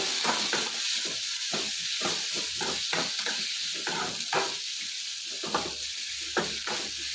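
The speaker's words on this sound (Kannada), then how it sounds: "ಈಗ ಈರುಳ್ಳಿ ಹಾಕೊಂತ ಇದ್ದೀನಿ ಹಾಗೆ ಕೊತ್ತಂಬರಿ ಸೊಪ್ಪು ಹಾಕೊಂತ ಇದ್ದೀನಿ ಇದನ್ನ ಹುರ್ಕೊಳ್ಳೋಣ ಚೆನ್ನಾಗಿ" Onion and coriander leaves fry in a pan for a beetroot kurma, a continuous sizzle broken by rhythmic scraping strokes of a spoon stirring, close and even throughout.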